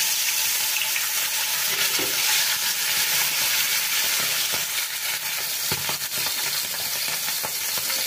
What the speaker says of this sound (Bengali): এখন আমি এর মধ্যে মাছ দিয়ে মাছ ভেজে নেব